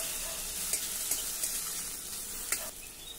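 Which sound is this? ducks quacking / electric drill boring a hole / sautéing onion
sautéing onion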